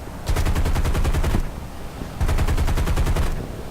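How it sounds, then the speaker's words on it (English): Bomber turret machine guns in War Thunder, forward and top turrets, fire two long, loud, rapid-fire bursts, each lasting over a second with a short pause between them. "that's both my forward and my top turret just opening fire on him"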